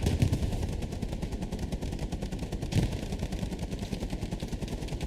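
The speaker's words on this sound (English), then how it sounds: "Rockets and grenades coming in." Incoming rockets and grenades in Hell Let Loose during a competitive match, heard as dense continuous rattling gunfire with a heavier thump near the middle, loud and steady throughout.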